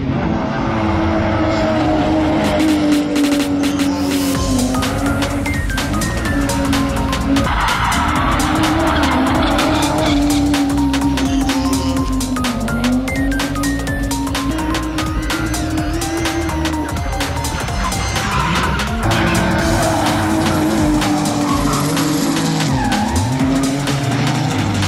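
A BMW car powered by an M52B28 2.8-litre engine races hard, with its engine note rising and falling through gear changes while the tires squeal and skid continuously, loud and close.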